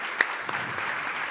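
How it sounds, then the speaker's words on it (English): An audience at an ethics summit gives panel speakers a brief, fairly faint round of applause, with a sharp single clap standing out at the start. "please join me giving a big applause to our panel speakers"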